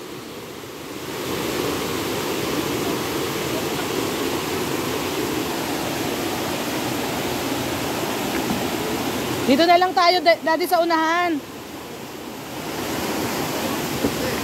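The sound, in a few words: strong ocean waves at the beach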